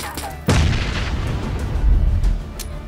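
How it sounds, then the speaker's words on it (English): A grenade explodes in PUBG with a single heavy, booming blast that rumbles on for a couple of seconds, loud and close, with no voice over it. "Hold on to it as long as possible if you want it to explode on impact."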